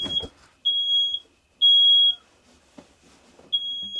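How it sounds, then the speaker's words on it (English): A smoke alarm inside an RV sounds three loud, piercing electronic beeps in an irregular pattern, with faint rustling between them. "That's the fire alarm."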